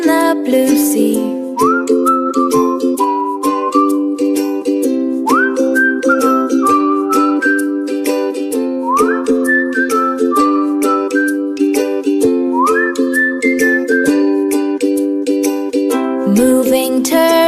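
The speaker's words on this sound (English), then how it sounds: "whistling whales in the water" Bright melodic whistling in a cheerful nursery rhyme animation meant as whistling whales, rising slides repeating in a regular phrase over a bouncy musical backing, loud and clear throughout.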